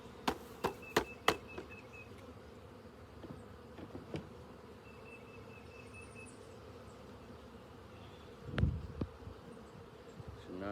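Honey bees buzzing in a steady low hum at a hive after a swarm, with combs being handled and shaken; sharp taps and knocks from the frames punctuate the drone at intervals.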